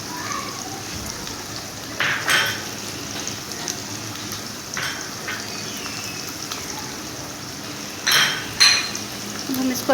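Okra and spices stirred in a frying pan give a steady close crackling sizzle, with a few louder scraping bursts of the spoon against the pan. No one speaks.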